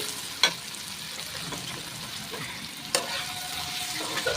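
Sliced potatoes fry in hot oil in a pan with a steady, soft sizzle, broken by two sharp clinks of a utensil stirring against the pan.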